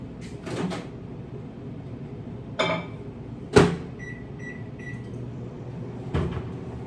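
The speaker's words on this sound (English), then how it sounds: "So I'm going to microwave this" A microwave door thuds shut, followed by three short keypad beeps. A low hum runs underneath as milk heats, broken by a few more clunks.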